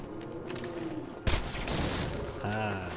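A single loud, close gunshot from an explosive-damage gun in Borderlands 2 cracks out sharply, then a long rumbling tail and a later tonal weapon whine follow, with game background noise throughout.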